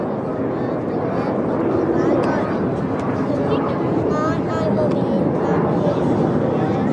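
RAF Red Arrows jets perform an airshow display, filling the air with a steady, loud rushing engine roar while a commentator talks over it.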